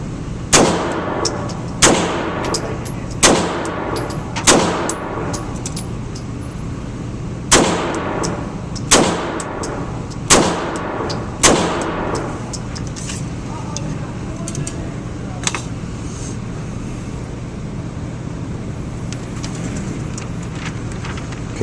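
Beretta 92X pistol firing rounds at targets from close range, about eight loud sharp reports in an uneven rhythm, then fainter, more distant shots from elsewhere on the range.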